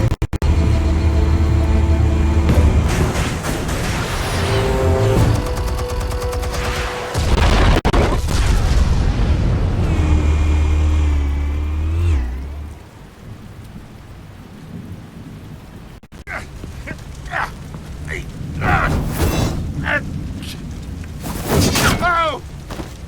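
Heavy booming blasts from the Batman Telltale Series video game roll out loud and sustained with deep rumble for about twelve seconds, then fade into quieter scattered crackles and later bursts of debris.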